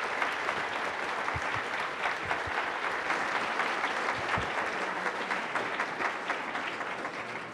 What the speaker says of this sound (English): I think applause now is in order.